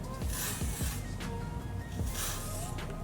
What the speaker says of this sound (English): I'm gonna try the Got To Be freezing spray, just so it secures the wig a bit more